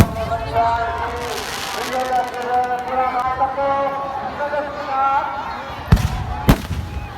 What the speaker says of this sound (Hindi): रावण मरते ही आतिशबाजी स्टार्ट।